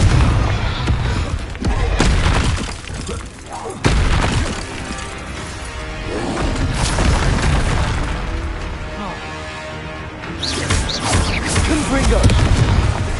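Blasting-curse explosions in the video game Hogwarts Legacy, repeated loud booms and crashes with sharp attacks at irregular intervals amid combat noise, with voices shouting spells in between.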